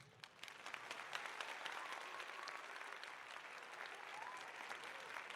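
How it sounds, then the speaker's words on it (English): Steady audience applause from a podcast crowd, a dense wash of clapping held at an even level for about five seconds with a light crowd murmur underneath. "Can I get a round of applause,"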